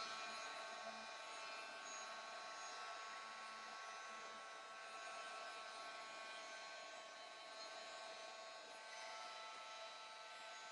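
A hair dryer blows steadily on an art journal page, a constant airy whir that holds at an even level throughout with no speech over it.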